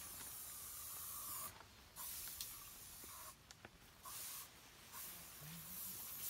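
Several short hissing bursts of aerosol spray, separated by brief pauses, sound close by and fairly quiet.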